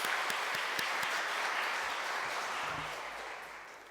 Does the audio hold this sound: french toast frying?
no